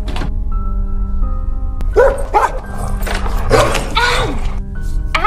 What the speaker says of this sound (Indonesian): kesal dengan anjing peliharaannya yang terus menggonggong